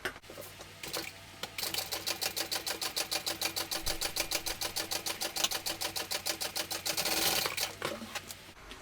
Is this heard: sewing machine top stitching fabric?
yes